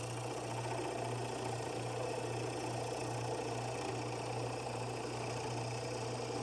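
A drill fitted with a sharpened 7/8-inch spade bit bores through wood. It gives a steady, close motor hum with a low droning tone and continuous cutting noise, and no pauses.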